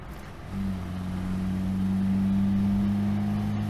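1972 Hillman Avenger engine pulling up through the gears, a low steady drone that rises in level and holds from inside the car, no talk.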